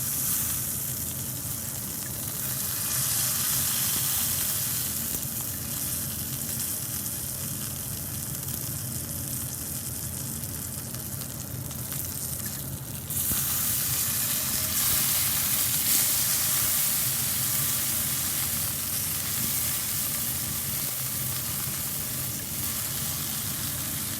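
Steady loud sizzle of steak edges searing in a hot pan, a continuous hiss and crackle running throughout with a brief dip partway through.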